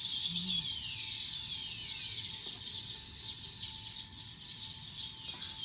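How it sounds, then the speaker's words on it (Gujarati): Sparrows chirp in a residential setting, giving faint, scattered tweets over a steady background hiss. "ચકલા તો જો બોલે ગઈ છે."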